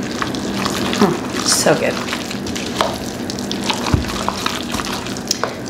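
Food sizzles and fries in a pan while being stirred, with pepper and salt added; crackling bursts and scraping stir sounds run continuously under a nearby voice speaking briefly.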